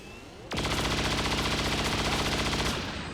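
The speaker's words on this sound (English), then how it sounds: "let us now take out the mech, and this time Grenadier QT is not going to miss" Rapid automatic gunfire aimed at a mech in the video game XCOM 2, a loud, close, sustained burst of about two seconds with evenly spaced shots, then a brief mechanical tail.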